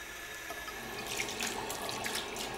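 Running water rinsing a guinea pig in a bath, a steady faint tap stream with splashes and drips, quiet and close, no talk.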